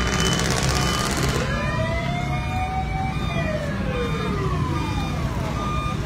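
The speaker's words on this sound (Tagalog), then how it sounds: "Ang daming fire truck dito." A fire truck siren rises and falls in long sweeps as it arrives at a fire in Santa Cruz, Manila, after a brief harsh blare at the start, fairly close over traffic noise, with no voices.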